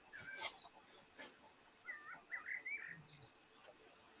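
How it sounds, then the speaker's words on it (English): Birds chirp and sing faintly outdoors near a waterfall, with brief bright calls scattered through a steady hiss of running water and background noise. "All I listen is the birds."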